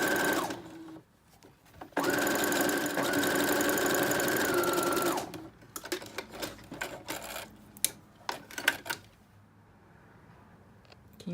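A sewing machine stitching gathers on a plain white tee, a short burst of fast steady motor-driven stitching about three seconds long, close and clear, followed by quieter handling clicks and rustles.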